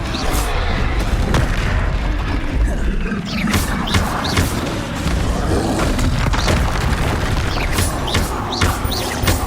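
Repeated booming blasts of the Confringo explosive spell in the PS5 game Hogwarts Legacy, loud dense thuds and crashes piling up one after another over a constant roar of combat effects.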